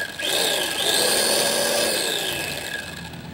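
A repaired Kazumi meat grinder runs with a steady motor whine and a grinding rasp, close and constant, with the pitch shifting slightly as it spins.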